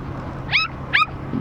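Pet dog Sophia lets out two high, rising whimpering yelps about half a second apart, near and fairly loud over a steady low rumble, as if riding in a moving vehicle.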